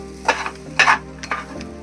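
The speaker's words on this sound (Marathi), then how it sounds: "आता ही तांदूळ 2-3 मिनिटांसाठी छान आपण परतून घेऊ।" Soaked rice being stirred and sautéed in a pan for pawta bhat, with scraping stirs and soft sizzling coming in three or four bursts, fairly close and with no voices.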